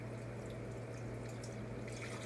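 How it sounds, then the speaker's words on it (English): Seasoned flour mixture with beef broth poured into a pot for pot roast, a steady continuous liquid pour at low level, close and without talk. "we're going to add in our seasoned flour mixture with the beef broth in it. I'm just going to pour it right on in here."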